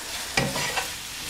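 A spoon scrapes and stirs through a soft ravioli filling of cheese with salt, oregano and chilli flakes in a bowl. Two brief, close scraping strokes sit over quiet background hiss, with no talking.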